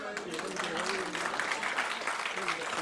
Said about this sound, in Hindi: मैं चाहूँगी थोड़ी सी तालियां बजनी चाहिए